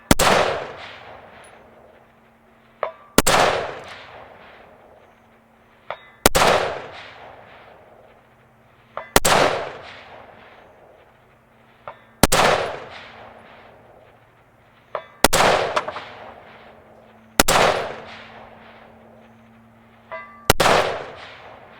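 Eight sharp rifle shots from a CMMG Endeavor AR10 chambered in 6.5 Creedmoor, fired at a long-range target about 686 yards out, each loud crack trailing into a decaying echo, spaced roughly every three seconds with a faint distant impact ping after several.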